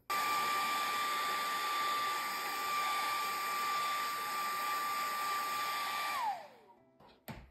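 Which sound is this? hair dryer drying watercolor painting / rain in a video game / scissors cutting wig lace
hair dryer drying watercolor painting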